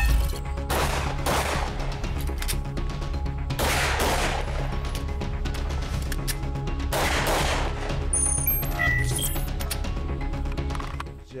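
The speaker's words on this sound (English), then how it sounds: "I'm gonna shoot two in the back, move over to the driver's side, shoot two on one of the windows" Gunshots strike the rear and windows of an Alpine Armoring bulletproof vehicle, several loud sharp blasts in separated bursts, with metallic clinks and rattles trailing near the end.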